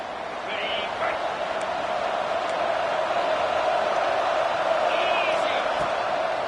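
A packed stadium crowd roars steadily throughout a Miami versus Notre Dame football game, a dense, loud wash of voices with a few higher whoops and whistles rising briefly above the din.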